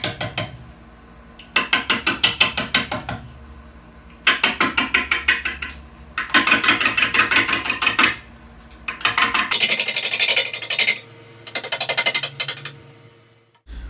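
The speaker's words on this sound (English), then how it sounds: "With very intermittent cuts and low RPM, this piece was challenging to bring into balance." A wood lathe at low speed turning a dry, diseased chokecherry bowl, the gouge hitting in bursts of rapid, rattling clacks from intermittent cuts, separated by short quieter gaps with the motor humming.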